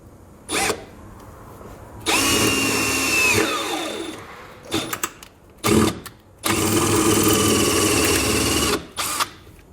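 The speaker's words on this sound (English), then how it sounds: "We'll then use a 1/8 drill bit to drill through the upper hole in the bracket." A power drill with a 1/8 inch bit whines through a metal side-step bracket on a 2018 Ram 1500 in two long bursts, with short clicks, clatter and brief trigger pulses between them, close and loud.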